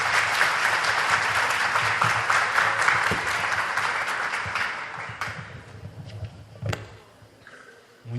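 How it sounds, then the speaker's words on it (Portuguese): Applause from a school audience after a debate: dense clapping that holds steady for about five seconds, then thins out and tapers into scattered claps near the end. "gostaria de mais palmas aí para as primeiras séries"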